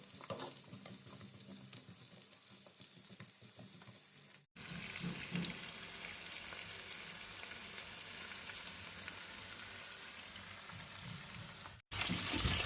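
Courgette omelette mixture fries in hot oil in a pan, giving a steady close sizzle that runs the whole length, broken by two brief cuts.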